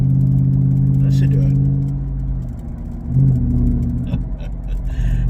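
Exhaust and engine of a blue Ford F-150 supercharged race truck, a steady low idle-like drone that dips and swells with a brief rev, loud and close, with a voice talking over it.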